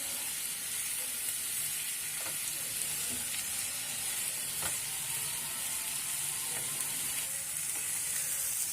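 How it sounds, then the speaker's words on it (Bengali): Onion, ginger and garlic fry with a little sugar in a pan for a beetroot and carrot curry, giving a steady close sizzle with faint stirring scrapes and no talking. "এবার ভালো করে আবার ভাজতে হবে।"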